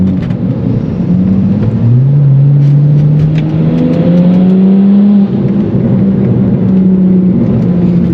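A loud BMW accelerates hard through traffic, its engine droning and climbing in pitch, with a rising turbo whine spooling up over several seconds before easing and building again.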